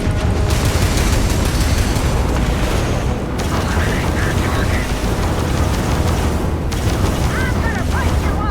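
In a Starfield firefight with pirates, bursts of gunfire riddle the player, heavy, booming and continuous, with rapid repeated impacts and a brief lull before the shooting resumes.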